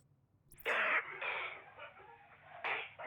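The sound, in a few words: character coughing in the video game The Division 2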